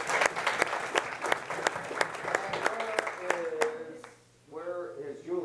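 An audience claps for a speaker at a wellness center ribbon cutting, a dense round of applause that fades out, then a voice starts talking at the end.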